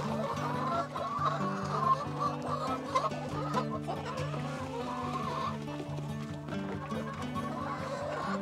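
Rhode Island Red, Dominant CZ F1 layer and Basilan native chickens cluck continuously at feeding time, a busy flock chorus of overlapping clucks close by with faint murmured talk.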